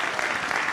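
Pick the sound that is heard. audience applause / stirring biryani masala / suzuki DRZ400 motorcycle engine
audience applause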